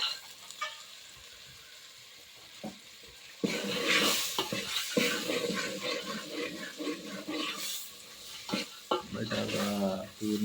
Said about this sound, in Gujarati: બટાકા તુવેરના દાણા ખીચડી વઘાર.